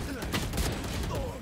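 Gunfire in a shooter video game, a short burst of several rapid shots that stays steady and fairly loud throughout.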